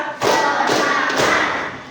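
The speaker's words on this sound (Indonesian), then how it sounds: "Tepuk satu, tepuk dua, tepuk tiga" Rhythmic group clapping by a class of schoolchildren led by their Islamic studies teacher, a few dense claps landing together as a counted pattern, loud and close in a classroom.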